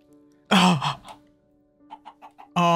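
Chicken clucking in Minecraft, a few short clucks in a quick run between louder bursts, with a faint steady game tone underneath.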